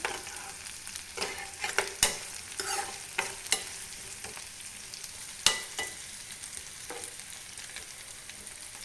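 Food frying in coconut oil in a pan, a steady soft sizzle broken by frequent sharp scraping stir strokes, close and moderately loud, with no voices.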